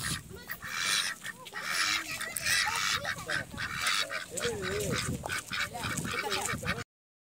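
A flock of ducks and geese being fed on a family trip in Rameswaram, with loud overlapping quacks and honks, some close and some farther off, plus wing flaps and scattered background voices.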